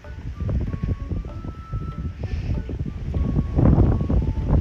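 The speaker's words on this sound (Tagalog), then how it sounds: "Grabe ang hangin." Gusty wind buffeting the microphone in low, irregular rumbles, growing stronger toward the end, with a faint tonal sound in the background.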